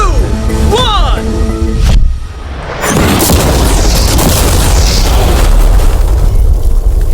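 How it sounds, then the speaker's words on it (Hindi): An ordinary car with mannequin passengers inside is blown up. Voices talk briefly, then a sudden loud boom is followed by several seconds of roaring blast noise and scattering debris. "चलो उड़ाते हैं एक नॉर्मल कार को और देखते हैं कि पैसेंजर्स बच पाते हैं या नहीं"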